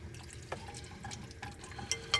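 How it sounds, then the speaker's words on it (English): Broth poured into a pot of beef stew, with a few faint splashes and drips in a quiet setting, soft and close, with no talking. "Add a little bit more broth in there too."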